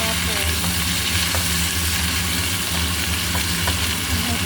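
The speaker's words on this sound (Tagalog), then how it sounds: "Halo-haloin natin." Garlic, ginger and onion frying in hot oil for Filipino pinakbet, a loud, dense, continuous sizzle with soft stirring scrapes throughout.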